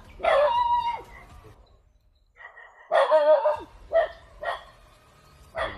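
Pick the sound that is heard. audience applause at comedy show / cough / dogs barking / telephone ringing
dogs barking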